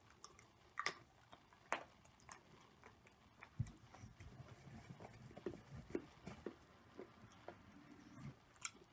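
Someone bites and chews a firm, crisp-edged square of Ghirardelli 92% intense dark chocolate; a few sharp snaps come first, then a run of close, quiet crunching and chewing with no talk.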